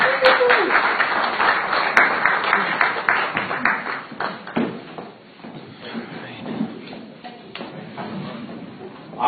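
An audience at a local candidate forum claps for a marshal and sheriff candidate, a dense burst of applause that thins and scatters over several seconds, with voices mixed in.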